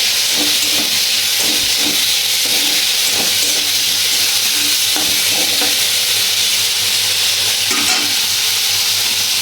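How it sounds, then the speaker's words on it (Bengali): Prawns sizzle and hiss loudly in a hot pan, with occasional stirring scrapes and clinks breaking the steady frying noise. "চিংড়ি মাছটা ভাজা হচ্ছে"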